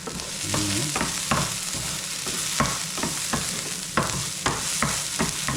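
Onions, garlic and canned sardines fry in a pan, with a steady sizzle under repeated scraping strokes of a stirring utensil, close and clear with no talk.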